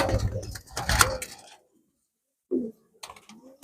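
Pigeons kept by a breeder give a few brief, low cooing calls after a short burst of nearby rustling and clicking, separated by a moment of near silence.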